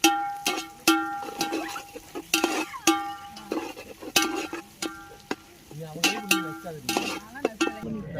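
Browning onions stirred in a metal pan while cooking biryani: a spatula scrapes and clanks against the pan in uneven, ringing strokes over a faint background sizzle, close by and with no voices.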